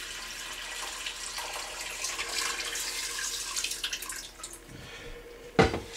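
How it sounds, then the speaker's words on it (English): Water trickles and drips steadily through a water filter in a kitchen, faint and close, with a brief louder clatter at the end. "the water is filtering, see, gradually becoming purified"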